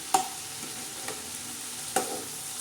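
Fenugreek leaves and potatoes are stirred in a frying pan, with a soft steady sizzle under three sharp scrapes of the spoon against the pan spaced about a second apart.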